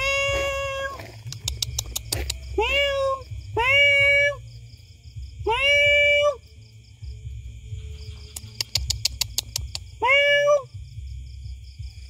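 Several cats meow in turn, about five clear drawn-out calls spaced a second or two apart, close by, with crickets and sharp ticking chirps in the background.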